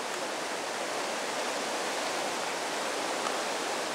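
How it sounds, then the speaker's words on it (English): Skunk Creek and Bear Creek overflowing their banks in Boulder, Colorado, a steady close rush of flowing floodwater with no voices. "Creek flowing over in a direction that it doesn't usually go."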